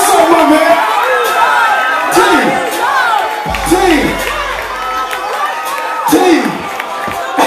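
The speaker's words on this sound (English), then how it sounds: "Give him a round of applause" An awards crowd cheers and whoops for the best performer, with loud shouting voices and someone talking over the excited noise.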